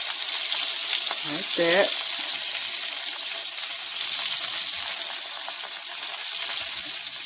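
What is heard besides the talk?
beef tips browning in a crock pot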